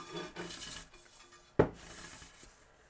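A cloth soaked in acetone wipes the platter of an Audio Technica AT-PL2D turntable, producing faint, soft rubbing strokes with one sharp knock partway through, all quiet and close.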